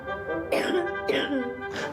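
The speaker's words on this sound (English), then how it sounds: "I always have been suffering of coughing." A patient with an asthma-like condition coughs in three sharp, close bursts, each followed by a raspy, throaty tail, with no talking.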